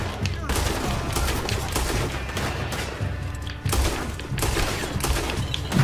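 Dense, sustained gunfire in Red Dead Redemption 2 with rapid automatic bursts and scattered heavier thuds, continuous and loud throughout, with faint voices underneath.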